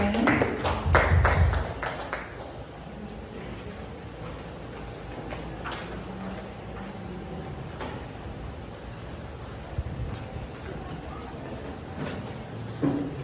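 Audience applause at a village community meeting, a short burst of scattered clapping at the start that fades into quiet room noise with occasional knocks.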